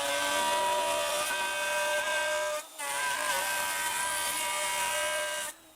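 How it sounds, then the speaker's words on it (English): A router cuts wood for a small herb shelf, a steady high-pitched motor whine, close and loud, dipping briefly as the bit leaves the cut, then resuming until it stops near the end. "Now, let's do some cutting here with the router."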